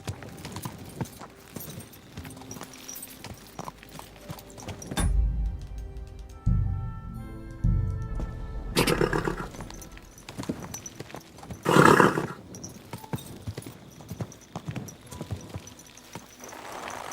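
Horse hooves clip-clop in the medieval game Kingdom Come: Deliverance 2, a steady close trot of hoofbeats with a brief quieter stretch and a loud burst near the end.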